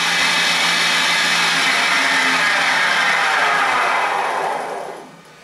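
The oil pump on a Schaublin lathe's feed gearbox runs with a loud, steady whirring hum that holds evenly, then winds down and fades out at the end.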